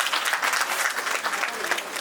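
Brief, steady applause from an audience at an official ceremony, a dense wash of hand claps with no break.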